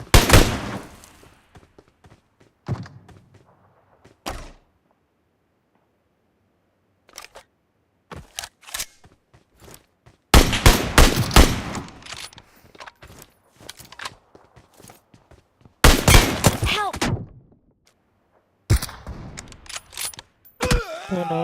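Gunfire from M24 and SKS rifles in PUBG Mobile during a 2025 PMGC League esports match, with several sharp, separate shot bursts and quieter clicks spread across the clip between gaps of near silence.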